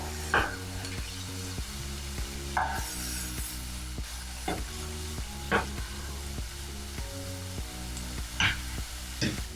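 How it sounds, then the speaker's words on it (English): Lettuce wrap filling with spring onions sautéing in a pan on high heat, a steady sizzle broken by regular scraping and tapping of a utensil against the pan, with no talking. "we're just going to give these a little saute on a high heat just for a couple of minutes"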